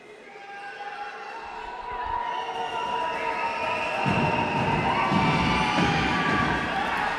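Torres basketball fans in an indoor playoff arena roar and cheer, a dense crowd din that swells louder midway and keeps building, with an announcer's voice speaking over it.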